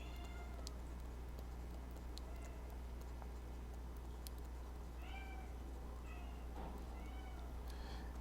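A pet cat meows several times at home, short plaintive calls at irregular intervals, moderately near, over a steady loud background hum.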